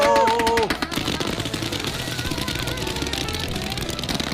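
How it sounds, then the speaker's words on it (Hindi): Firecrackers bursting on July 4th, a dense, rapid crackle of loud pops running continuously like gunfire, with a brief tonal whistle at the very start. "मैंने बस रैंडम पटाखे खरीदे थे, सोचा नहीं था इतना बवाल मच जाएगा।"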